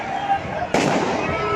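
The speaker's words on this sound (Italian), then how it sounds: "ancora esplosioni e petardi che erano vietati, ma che qualcuno poi ha trovato il modo di far esplodere comunque" Firecrackers and fireworks go off at New Year in Cagliari around Largo Carlo Felice, with a sharp loud burst cracking out midway against a steady backdrop of crowd noise and a speaking voice.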